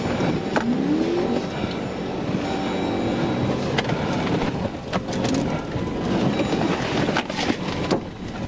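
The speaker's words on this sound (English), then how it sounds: "The driver now tries to get away by driving in reverse." A Dodge Charger Daytona reverses away during a police chase, its engine droning loud and steady with brief rising revs and tire or road noise throughout.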